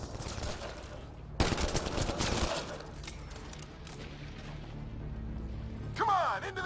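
Enemy gunfire in the video game Mass Effect Andromeda, bursts of rapid shots and impacts crackling loudly, with in-game voices speaking over the firefight.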